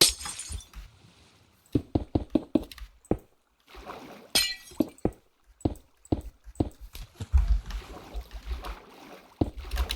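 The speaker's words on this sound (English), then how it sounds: "Sorry for the glass breaking" Glass blocks shattering one after another in Minecraft, a rapid run of sharp crisp breaks with clinking tails, loud and close, clustered in quick bursts with short pauses between.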